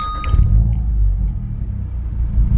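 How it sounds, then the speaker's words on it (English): VW Golf R 7.5 fitted with a Remus exhaust catching on startup, a brief whir, then a deep rumbling idle close by, steady and throaty. "Okay, startup's definitely a lot different to my car, considering it's the same engine"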